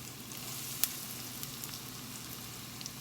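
Cornmeal-coated okra frying in a hot pan on a gas stove, an even, moderate crackling sizzle with a few sharp pops of spattering oil, no voices.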